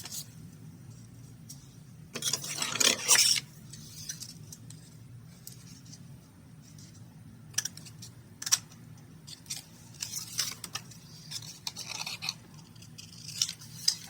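Paper is trimmed along its edge to make an envelope pocket for a vintage coffee journal, giving a brief loud crisp cut followed by sparse, faint scratches and taps over a low hum.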